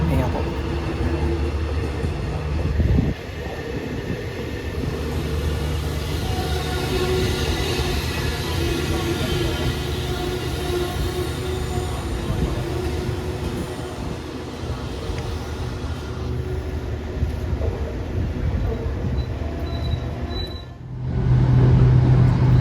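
The Thaksinarath special train, number 31, rumbles past Salaya station in Thailand steadily and loudly for a long stretch. There is constant rail noise and a brief louder surge near the end.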